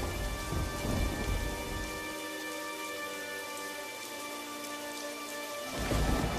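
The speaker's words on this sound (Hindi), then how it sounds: "तभी अचानक से जोर का तूफान आया और बारिश शुरू हो गई।" A cartoon thunderstorm with heavy rain hammering down and a loud rumble of thunder. The thunder swells, drops to a quieter stretch of rain, then surges back near the end. No voices are heard.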